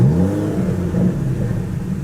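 A V12 twin-turbo sports car with 715 horsepower, a gurgly engine note, rumbles close and loud, a deep steady idle with a slight rise in pitch through the short stretch.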